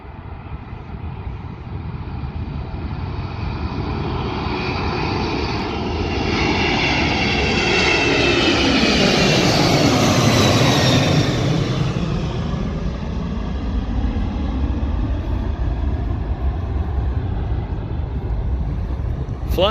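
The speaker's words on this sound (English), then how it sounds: "here's a cargo plane taking off" A cargo plane takes off from Anchorage Airport, its loud jet roar building and sweeping overhead near the middle, then easing off while remaining a heavy rumble throughout.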